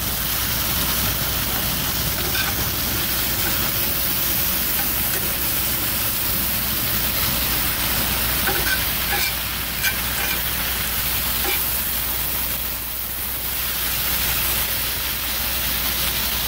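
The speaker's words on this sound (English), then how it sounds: "I'm just going to stir that up a little bit here" Food sizzles steadily in a cast iron pan while being stirred, a loud close hiss with occasional faint scrapes and clicks over the whole stretch, and no talking.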